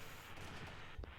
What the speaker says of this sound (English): Several bursts of gunfire can be heard at this time.